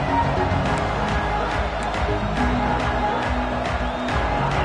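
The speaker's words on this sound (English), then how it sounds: "This crowd ready to make its presence known." A large football stadium crowd roars in a dense, steady wall of cheering and shouting that holds loud throughout, with voices mixed into the noise.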